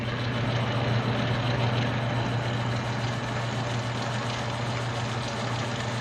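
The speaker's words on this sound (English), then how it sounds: "right now it's doing a really nice job of taking off aluminum from that large cylinder" A metal lathe on automatic feed turns a large aluminum cylinder, giving a steady, close mechanical hum with a constant low drone and faint cutting hiss, unchanging throughout with no voices.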